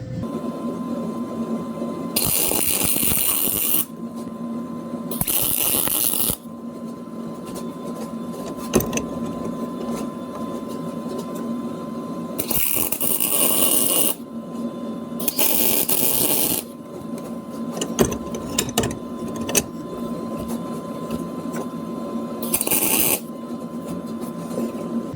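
Welding heim joints onto steel tubing bars for a 1946 Chevy rat rod's triangulated four-link, with sustained crackling buzz in several long bursts separated by brief pauses, loud and close with no talk.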